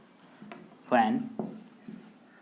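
Chalk or pen writing on a board during a biology lecture, heard as a brief scratchy stroke around the middle, moderately loud and close, with light scraping before and after.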